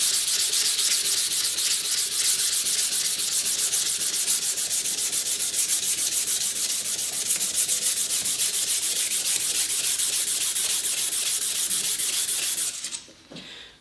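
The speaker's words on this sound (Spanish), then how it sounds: "Esto lo podemos utilizar para lijar la superficie, arrancar esa primera capa de abrasivo, de partícula metálica" Sandpaper rubs steadily against a ceramic honing rod to strip off embedded metal particles, a loud, continuous scratchy rasp with fast rhythmic strokes that stops abruptly near the end.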